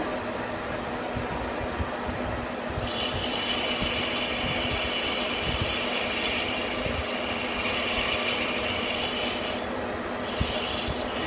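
A lathe turning a bend die at 370 RPM, a continuous harsh metallic rasp of the cutting tool on the workpiece over a steady motor hum, loud and close, with a short break near the end.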